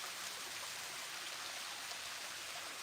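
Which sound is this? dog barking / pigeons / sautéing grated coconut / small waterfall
small waterfall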